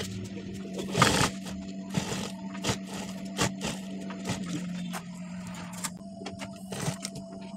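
A sewing machine back stitching jacket fabric for a shawl collar jacket, running in short repeated bursts with a steady mechanical hum and clattering needle strokes, close by with no talk.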